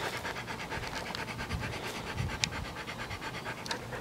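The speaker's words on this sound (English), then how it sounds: "There's my dogs." Rapid, rhythmic panting from dogs close by, quick breathy huffs repeating steadily with a faint scratching sound now and then.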